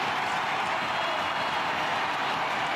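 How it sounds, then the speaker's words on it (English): A stadium crowd at a Major League Soccer match roars as a player comes into the game, a dense, constant wash of cheering and applause that holds at an even loud level throughout. "Listen to this crowd."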